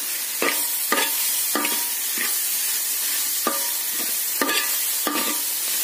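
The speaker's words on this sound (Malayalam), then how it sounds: "തേങ്ങ ചേർത്ത് നന്നായിട്ട് ഇളക്കി എടുക്കാം" A spoon stirs grated coconut into rava upma in a pan, with seven or so distinct scraping strokes in an uneven rhythm over a soft steady background hiss.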